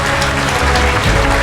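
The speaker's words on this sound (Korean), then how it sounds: "우리 목사님 박수로, 큰 박수로 모시겠습니다" A church congregation at a London missionary conference applauds to welcome a pastor, a dense, loud burst of clapping from many hands, brief and close.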